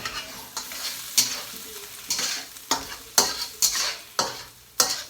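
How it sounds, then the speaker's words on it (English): Vegan meat pieces sizzle as they brown in a frying pan, a steady hiss broken by a string of sharp spattering bursts roughly every half second, close and loud with no voices. "Going to add about 4 pieces to the pan. And we're going to brown them on each side."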